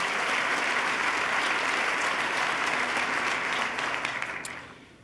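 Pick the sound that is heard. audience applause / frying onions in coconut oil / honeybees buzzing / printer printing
audience applause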